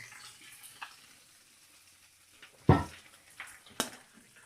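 Bacon frying in a pan for a breakfast sandwich: a faint, soft sizzle under a few sharp clinks and clatters of a utensil against the pan, close by, with no talking.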